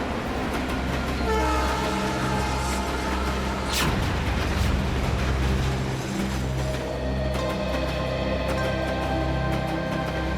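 A train pulling out of a railway station, its loud, steady rumble and rolling wheels filling the scene, with a sharp horn blast near the start and sustained tonal hum throughout.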